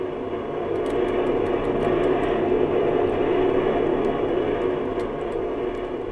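An aircraft flying past in the Roblox flight game Aeronautica, a steady, loud engine roar with broadband rumble that holds evenly throughout and is heard alone.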